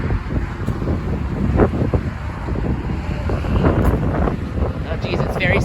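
Strong wind on the Bob Jones Trail in San Luis Obispo, California, buffeting the microphone with loud, continuous, gusty rumbling throughout.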